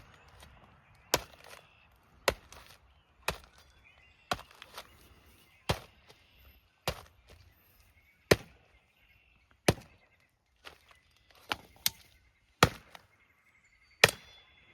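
A machete hacks repeatedly into a thick wall built from 100 layers of duct tape, each sharp, loud chop standing alone with short pauses between, about a dozen blows that come faster toward the end.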